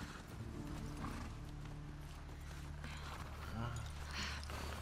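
Horse hooves clip-clop in The Last of Us Part II gameplay: soft, steady hoof falls, faint and low in the mix beneath a continuous hum of game ambience.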